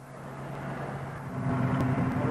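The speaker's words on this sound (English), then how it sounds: "they decide to use a helicopter to try and get some of the rescuers higher up the mountain" Helicopter on a Cairngorms mountain rescue in the mid-1990s, a steady droning engine hum with a low tonal whine, growing slightly louder toward the end.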